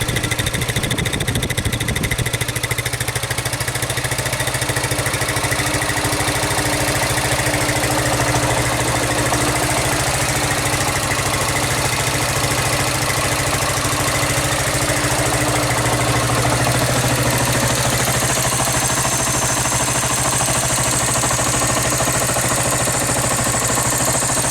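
A Suzuki TU 250 X single-cylinder motorcycle engine idles steadily and loudly close up, a continuous even throb with a faint mechanical knock.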